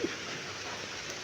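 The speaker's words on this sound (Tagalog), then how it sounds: "Umuulan." Soft, steady rain falls in a rural provincial setting in Laguna at night, a faint continuous hiss with no voices and no distinct drops.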